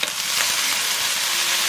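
Beef and gai lan fried rice stir-fried in a hot wok, a dense continuous sizzle and crackle of rice and oil being tossed, with no voices.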